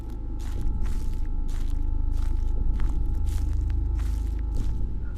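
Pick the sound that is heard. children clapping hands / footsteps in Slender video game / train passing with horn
footsteps in Slender video game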